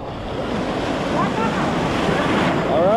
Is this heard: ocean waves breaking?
yes